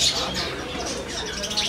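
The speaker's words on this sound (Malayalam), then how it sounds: "പിന്നെ ഇവിടെ മൈനകൾ ഉണ്ട് ഇഷ്ടംപോലെ" Mynah birds chirp in a pet shop, short bright calls sounding over a steady noisy indoor background for a brief moment.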